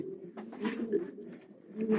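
Racing pigeons, widower cocks, coo softly and repeatedly inside a loft, with low throaty calls close by and a faint human voice beneath them.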